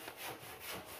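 A handsaw cuts through wood to remove a door jamb, rhythmic rasping strokes in a steady back-and-forth pattern, close and clear with no voices.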